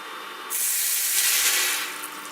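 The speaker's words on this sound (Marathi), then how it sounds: "ह्याच्यामध्ये आपण पाणी घातलेलं आहे" A sudden loud hiss as water hits a hot cooking pot, rushing steadily for over a second before tapering off.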